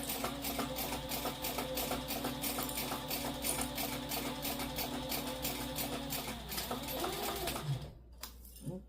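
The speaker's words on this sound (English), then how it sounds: "You're going to sew all the way down to the bottom." A sewing machine stitching a seam down a satchel handbag, running in a fast, steady rhythmic chatter close by before slowing and stopping near the end, with faint voice in the background.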